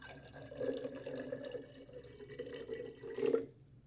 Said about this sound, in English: I'm going to put about the same amount of water that's cold into the other mason jar